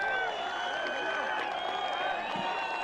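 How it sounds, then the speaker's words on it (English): Stadium crowd at a rugby sevens match cheering and applauding loudly, a dense continuous roar with whoops rising above it throughout. "Loudest I've heard the crowd go today."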